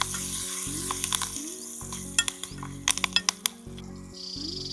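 Curry leaves and green chilli pieces sizzle and crackle in hot oil, with scattered sharp pops and small metallic clinks over a steady frying hiss.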